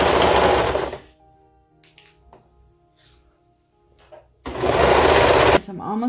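Sewing machine stitching a seam on a baby romper, loud rapid whirring bursts at the start and end with a quiet pause between.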